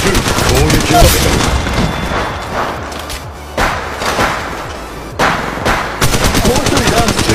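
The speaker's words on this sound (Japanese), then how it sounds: "射撃中。 攻撃を受けた。" Loud, close gunfire from the mobile video game Apex Legends Mobile, with bursts of automatic fire, impact thuds and slams repeating over several seconds, and game voice lines now and then.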